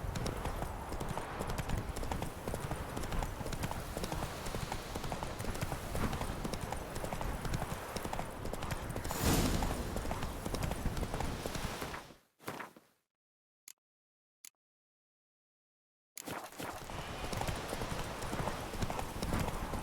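Roach, Geralt's horse in The Witcher 3, clip-clops along at a steady walking gait, hooves close and clear over game ambience, then cut off by a few seconds of near silence before resuming.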